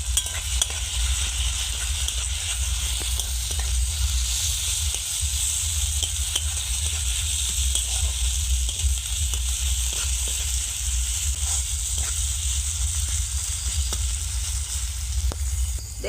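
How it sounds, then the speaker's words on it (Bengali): Spice masala with chilli powder and turmeric frying in a pan for a Bengali bird curry, a steady close sizzle and hiss with small crackles and occasional stirring scrapes throughout. "এবারে মশলাটাকে ভালো করে ভেজে নেব।"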